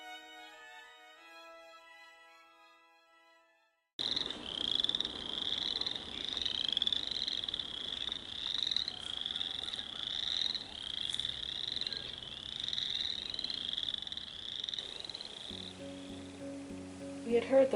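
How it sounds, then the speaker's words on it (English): Frogs croak in a park in a steady, rhythmic chorus of repeated close calls, starting after a quiet opening and continuing without pause. "We had heard those frogs on the way in"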